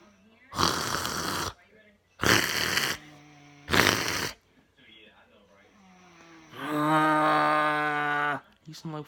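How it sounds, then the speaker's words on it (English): Loud, harsh snoring from a sleeping little boy, several separate rasping breaths followed by a longer drawn-out growling snore with a tonal, buzzing quality, heard up close. "hope you guys don't have a brother who snores."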